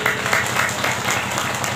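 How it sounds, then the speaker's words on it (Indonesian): Audience at a Muslimat NU community gathering in West Kalimantan applauds, a steady mass of dense clapping that fills the room at an even level throughout. "tepuk tangan lagi"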